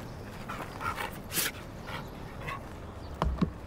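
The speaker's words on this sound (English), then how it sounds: "He's a beautiful dog." A dog pants and whimpers softly, close by, with a few short yips and noisy shuffling throughout, and no clear talk.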